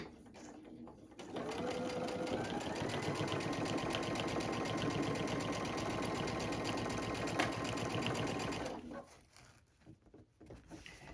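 A sewing machine stitches down the side of a fabric bag, running in a steady, fast mechanical patter for several seconds close up before slowing and stopping.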